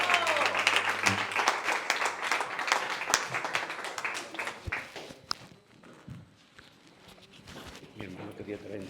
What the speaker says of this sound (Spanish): Por eso recibamos con aplausos a la bendita palabra